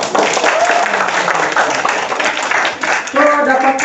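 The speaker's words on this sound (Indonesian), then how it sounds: "Oke, tepuk tangan." A class of students claps together in a classroom during a marketing lesson, a brisk patter of hands fairly close with a voice briefly heard over it.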